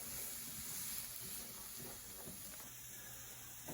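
Carrots, onions, peas and garlic sweating in butter in a pan give off a soft, continuous hiss and faint crackle, steady and quiet throughout.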